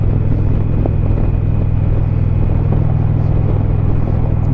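A motorcycle cruises along Georgia Route 204 near Savannah, its engine a steady, loud, low droning rumble mixed with continuous wind noise, without talk.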